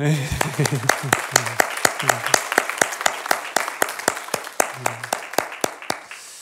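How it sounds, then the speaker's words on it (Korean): A church congregation claps together during an Easter Sunday sermon, a dense run of sharp, evenly paced claps that fills the room, with a voice speaking over the start. "박수 한번 치십시오."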